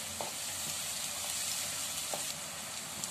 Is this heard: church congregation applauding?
no